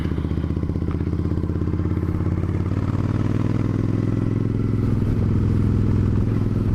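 Motorcycle engine droning steadily while riding, a loud continuous rumble with clattering mechanical texture and a pitch that climbs slightly as it accelerates.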